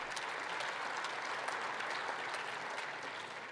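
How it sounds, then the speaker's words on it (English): Steady audience applause for Governor Hogan at a winter meeting plenary session, a dense continuous wash of clapping heard at moderate distance throughout. "Another round of applause for Governor Hogan"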